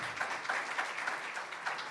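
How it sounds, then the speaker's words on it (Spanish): A church congregation applauds during a Spanish-language sermon, the clapping fairly soft and slightly distant, forming a continuous patter with gentle swells and a few sharper claps standing out. "Démosle un aplauso fuerte al Rey de Gloria."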